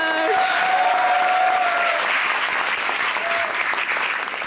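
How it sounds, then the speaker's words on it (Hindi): A television studio audience applauds warmly for a guest's welcome on a Pakistani talk show, dense steady clapping that fills the room for several seconds and fades slightly at the end. "भरपूर तालियों में"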